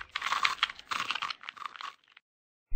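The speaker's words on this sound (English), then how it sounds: "We're getting some kind of grinding noise on the track." Harsh grinding noise over a country music track in an animated comedy cartoon, a loud, coarse broadband rasp in stuttering bursts for about two seconds, then silence before a sudden low thump.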